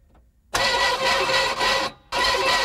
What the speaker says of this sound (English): Now, try and crank it.